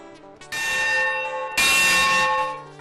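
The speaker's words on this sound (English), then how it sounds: "This bell is from the Manistee and Northeastern Railroad engine, number 18." A locomotive bell from the Manistee and Northeastern Railroad engine number 18 is rung by hand, two loud ringing strikes about a second apart, each leaving a long bright metallic decay, close and alone without talk.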